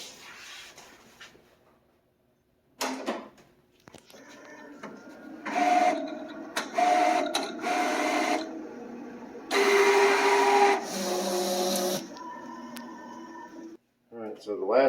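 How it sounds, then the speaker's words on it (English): A large format cutter works through laminated prints in bursts of whirring and buzzing motor movement separated by short pauses, close and moderately loud. "get this over in the cutter"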